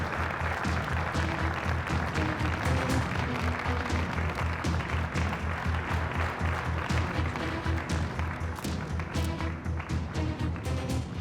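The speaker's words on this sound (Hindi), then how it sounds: "अली कोजान के लिए तालियां" A large audience applauds for Ali on stage with sustained, dense clapping that holds steady and loud for the whole stretch, the claps blending into a continuous roar.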